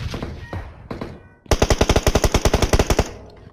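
Rapid automatic gunfire in the shooter game PUBG Mobile, a loud burst of about sixteen evenly spaced shots fired close by, preceded by a rougher mix of in-game noise.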